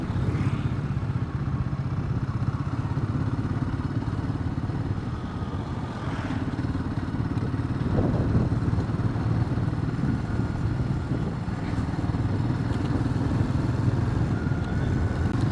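A Royal Enfield Himalayan 450 rides along a forest road near Munnar's tea plantations, its engine a steady, close mid-range drone with wind rush and a few faint clatters, continuous throughout with no talk.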